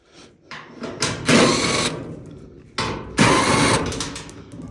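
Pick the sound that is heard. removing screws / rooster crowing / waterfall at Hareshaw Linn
removing screws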